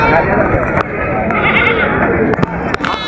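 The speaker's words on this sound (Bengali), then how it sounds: "এখানে সব জাতের ছাগল আছে।" Goats bleat among the busy crowd of a weekly Thursday goat market, where animals of many breeds are sold. The calls are mixed into constant loud talking and bustle.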